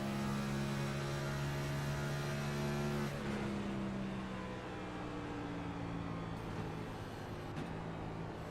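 A race car engine drones steadily in an iRacing stock car race at Darlington, then its pitch drops as it downshifts midway. The tone is loud and continuous, with no voices.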